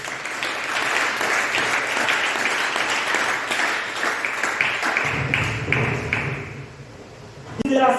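A church congregation applauds and cheers in acclaim during a sermon, with loud sustained clapping and shouting voices that fade somewhat toward the end before a final burst of noise.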